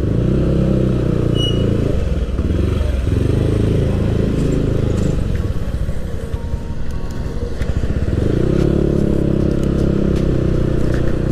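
A Yamaha Aerox scooter bored up to 200cc roars steadily while being ridden, its loud, close engine drone swelling and easing under throttle with some road clatter.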